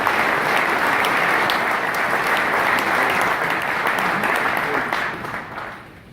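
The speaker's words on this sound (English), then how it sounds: "if you guys can give them a round of applause, that'd be great" A dense, loud round of audience applause for veterans at a transportation forum, sustained evenly for several seconds before tapering off at the end.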